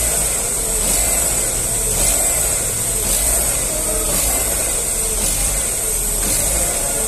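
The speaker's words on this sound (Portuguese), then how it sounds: "Deixa em marcha lenta." A 2009 Chevrolet Astra engine idles steadily and loudly up close, a continuous even rumble with a constant high whine over it and no change in speed.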